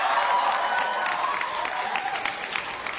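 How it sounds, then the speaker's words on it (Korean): A large audience applauds at the WCG 2007 Korean national team launch ceremony, dense continuous clapping filling a hall at steady loudness, with faint cheering mixed in. "박수 세게 부탁드리겠습니다"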